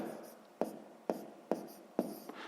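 Pen or pencil writing math on paper, steady scratchy strokes punctuated by four sharp taps as the writer marks digits, close and quiet with no talk.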